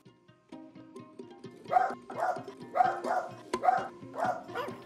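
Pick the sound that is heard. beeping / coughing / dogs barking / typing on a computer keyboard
dogs barking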